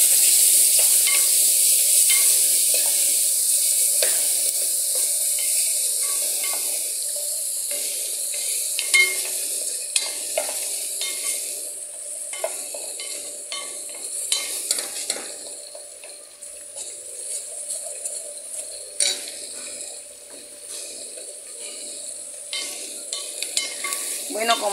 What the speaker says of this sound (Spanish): La cebolla con el ajo para que se sofría por ahí unos